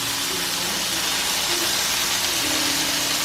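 Onions and a jerk burger patty sizzle on a grill, a steady loud hissing crackle throughout, close up and uninterrupted, with no talking.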